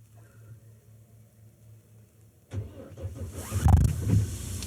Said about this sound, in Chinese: 哦，没问题，启动了，那说明油还是没冻住的，还能启动